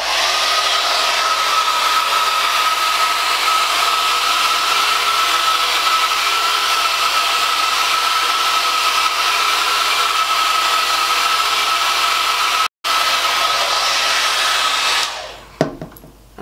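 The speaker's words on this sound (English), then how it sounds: "But how do you use the rotating brush?" A rotating hot air brush hair dryer runs with a loud, steady airy whir for about fifteen seconds, briefly interrupted by a tiny gap, then switches off with a few handling clatters, close and without talk.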